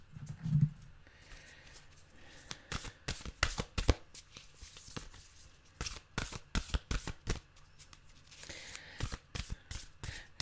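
A wide Nature's Whispers oracle card deck being shuffled by hand, with repeated quick riffling bursts of card flutter in uneven clusters, close and fairly clear over a quiet room.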